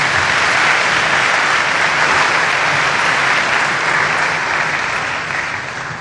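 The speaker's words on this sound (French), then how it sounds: "Applaudissez d'abord très fort." A large crowd of scholarship students applauds loudly and continuously at a gathering in Congo, the dense clapping holding steady before tapering slightly at the end.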